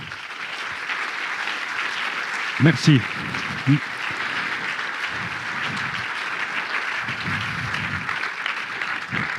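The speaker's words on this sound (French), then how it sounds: "On les applaudit." At a festival closing ceremony, an audience gives steady, continuous applause for the youth jury, with a voice speaking briefly over the clapping.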